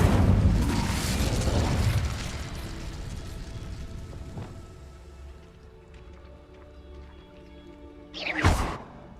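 An Incendio fire spell erupts in a Harry Potter video game, a loud whooshing burst of flame that fades into quieter mechanical rumbling, followed by a sharp crackling flare near the end.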